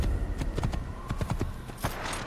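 Horse hooves clip-clop in a quick, uneven rhythm in the Assassin's Creed video game, loud and close over a steady game background with no talk.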